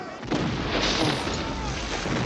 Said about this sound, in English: They're just taking a pounding from these cannons.